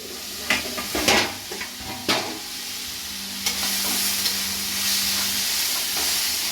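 Tomatoes frying with cabbage in a pan, a steady sizzle with several scraping stirs of a spoon near the start and one later, close and moderately loud.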